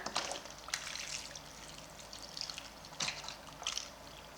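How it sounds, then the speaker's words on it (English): Water drained off boiled potatoes, an uneven trickling and splashing pour with several brief surging bursts over a few seconds, fairly close and moderately quiet, no talking. "we're going to drain off this water"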